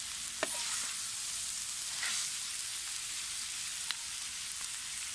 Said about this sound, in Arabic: هسه حبايبي بعد ما صارت هالمرحلة هاد اظل احمس بيه